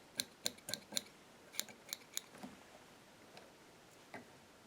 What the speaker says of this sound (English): We're going to grab our scissors and we're going to trim the underside flat.